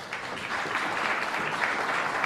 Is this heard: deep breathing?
no